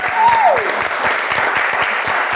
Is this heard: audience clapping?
yes